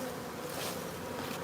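Honeybee foragers buzz steadily around a hive, a dense, continuous hum of many wings heard close by.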